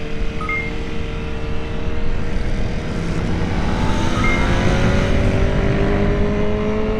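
Lamborghini V4 motorcycle running at speed on a race track, a loud continuous high-revving engine whine with shifting pitch, heard close from the rider's position.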